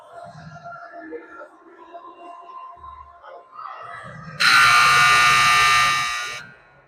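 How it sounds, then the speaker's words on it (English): A loud, sustained electronic buzzer sounds for about two seconds to mark the start of a period at a youth ice hockey game, following quieter arena noise and distant voices. "Buzzer sounds."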